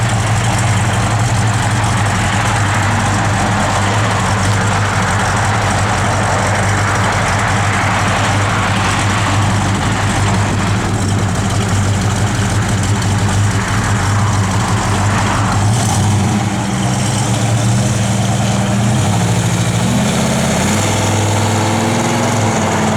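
A 1965 Chevrolet Malibu SS idles steadily and loudly up close, a deep rumbling engine note holding even for the whole stretch, with a small shift in pitch near the end.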